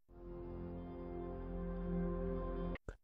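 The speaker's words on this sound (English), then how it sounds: "the Midsummer theme is a light theme with soothing background sounds like this" Soothing background sound from the Opera browser's Midsummer theme: a soft, sustained harmonic drone with gently shifting tones, fairly quiet, ending abruptly with a couple of brief clicks.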